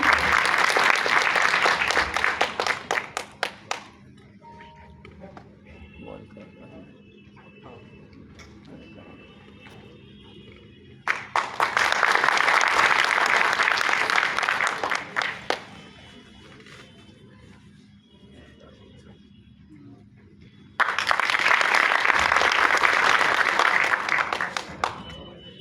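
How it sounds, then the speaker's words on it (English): Three bursts of audience applause at a college jubilee ceremony, each several seconds long, separated by quieter stretches with faint background murmur and sounds. "Please give a huge round of applause to everyone."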